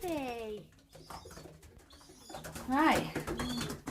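Young racing pigeon cooing in a training basket, with a few soft, throaty coos rising close by between short pauses and other birds faintly audible around it.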